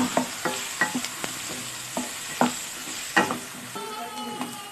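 Chopped tomatoes softening in a frying pan while a spatula stirs them, giving a series of distinct scraping knocks over a light sizzle, close and clear, with no voices.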